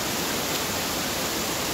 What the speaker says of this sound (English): it drops down into about a 100-foot waterfall